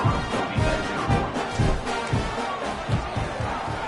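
Dense stadium crowd noise from a football video game, a steady loud roar with rhythmic swells of cheering and no clear voices on top.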